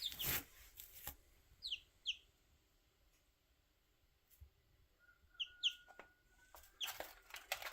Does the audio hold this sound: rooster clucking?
yes